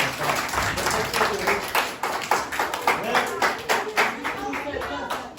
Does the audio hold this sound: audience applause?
yes